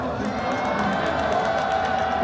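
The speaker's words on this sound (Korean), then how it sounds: "음악 선생님께 큰 박수 한번 주세요" A large crowd at an outdoor rally in Gwanghwamun against a presidential impeachment claps and cheers for a music teacher taking the stage. The roar of mixed voices and applause is continuous and fairly loud throughout.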